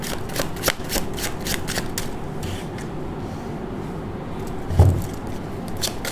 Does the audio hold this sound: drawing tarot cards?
yes